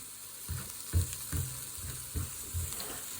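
Sausages fry over medium-high heat in a pan, giving a soft continuous sizzle with several dull knocks and shuffles as they are moved around, with no talking.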